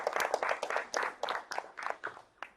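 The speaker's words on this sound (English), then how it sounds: "I know that is applause." A burst of scattered hand clapping from a small conference audience, uneven and fairly close, fading toward the end.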